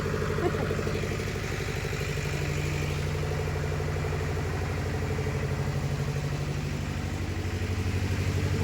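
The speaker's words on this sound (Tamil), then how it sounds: "இங்கே ஏதோ மோட்டார் சவுண்டு செம்ம சவுண்டு ஓடுது" Loud motor running steadily near a temple, a continuous droning engine hum with a fast clattering pulse that holds for several seconds, close by and alone.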